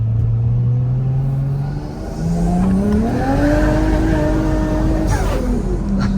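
A car pulls hard in second gear from low revs, its engine note climbing steadily in pitch with a brief dip and then a steep rise, loud and close under cabin rumble, no voices.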